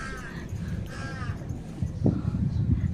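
A crow caws outdoors on a breezy morning, giving two moderately loud caws in the first half over a low wind rumble. Gusts and background noise grow louder afterward.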